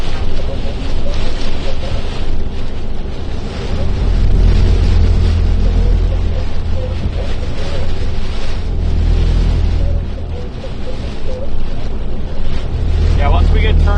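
Strong Hurricane Beryl wind buffets a vehicle on a storm chase drive, a loud, continuous roaring rush with low rumbling gusts and no pause.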